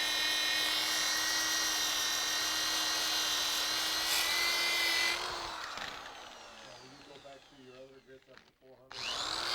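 A rotary tool sands a turquoise inlay with a steady high-pitched whine for about five seconds, then winds down and stops, leaving faint intermittent scraping and handling noises.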